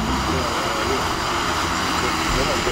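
An Iseki agricultural spraying drone hovers at an outdoor farm-equipment show, giving a steady, loud whir of rotors that holds evenly throughout, with broad background noise mixed in.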